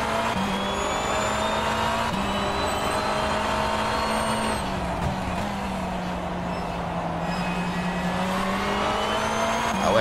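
A BMW M V8 Hybrid LMDh race car engine in the rFactor 2 racing sim, a loud, steady high-revving drone held close throughout with a slight dip in pitch midway, no voices.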